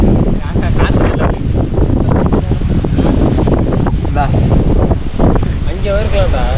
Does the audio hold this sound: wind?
yes